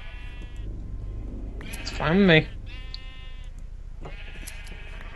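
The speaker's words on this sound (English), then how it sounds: "I'm shearing all the red sheep because I need a bunch of red cloth." Sheep bleat repeatedly in a Minecraft game while red sheep are being sheared, short nasal calls recurring around a louder wavering bleat, with someone speaking briefly over them.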